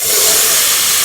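Chickpeas hit a pan of hot, browned spices for an Indian dish, giving a loud, steady, bright hiss of sizzling that carries evenly through the whole moment with no voices.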